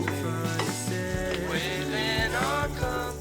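Halved onion and two garlic cloves frying in a pan, a steady loud sizzle with scraping stirs and occasional knocks of the utensil, no talking.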